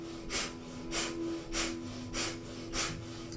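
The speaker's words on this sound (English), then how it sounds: "Panting like a dog through the nose" Rapid, rhythmic panting breath through the nose during a Kundalini yoga practice, with the navel pumping powerfully; five or six strong, evenly spaced exhalation bursts sound close over a steady low hum.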